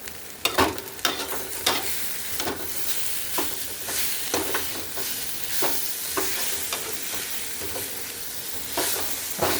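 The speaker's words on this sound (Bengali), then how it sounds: "শাকটা ভাজা হয়ে গেছে।" Jute leaves stir-fried in a pan in a village kitchen give a steady, close sizzle broken by repeated scraping and stirring strokes, with no talking.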